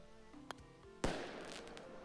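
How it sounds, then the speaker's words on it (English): Fireworks burst in the VR minigolf game Cloudlands, a soft pop followed by a sharper crackling bang that fades out over a low background hum. "Ooh, fireworks."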